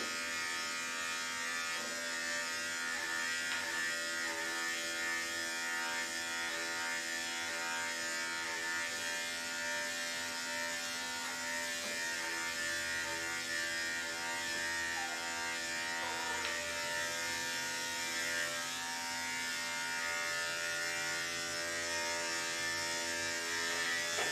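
Electric clippers grooming a Maltese dog, a continuous close buzzing drone that holds steady for the whole stretch with no speech.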